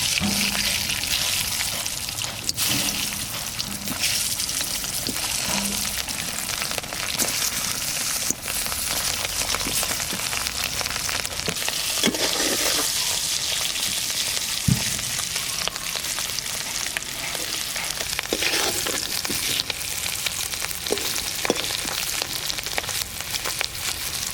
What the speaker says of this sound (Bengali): আলুটির আগে বাইজালুম।